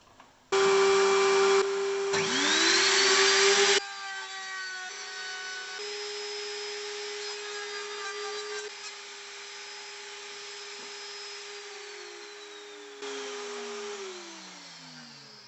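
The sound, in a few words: Lumberjack RT1500 router table cutting pine planks with dust extraction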